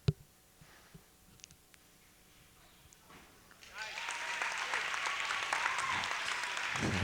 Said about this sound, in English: Erica breaks the tension by clapping for one of the boy gymnasts